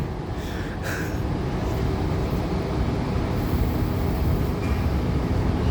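A Sydney Trains T4 express train runs steadily between Central and Hurstville, a continuous rumble of wheels and carriage noise with a constant roar throughout.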